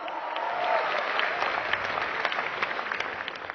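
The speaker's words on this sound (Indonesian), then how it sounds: "Beliau Bapak Sugeng Hendro Santoso, mohon aplaus untuk beliau" An indoor seminar audience applauds, a dense, steady wash of many hands clapping at moderate volume that slowly tapers toward the end.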